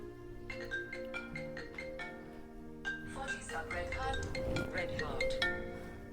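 A phone ringtone plays at night, a repeating melodic tone pattern that rings clearly and steadily for several seconds, with a faint voice in the room.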